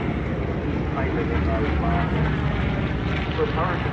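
A Spitfire Mark 8 propeller fighter from the Temora Aviation Museum, flying at an airshow, gives a steady droning engine roar that stays loud and even throughout, with a voice talking over it.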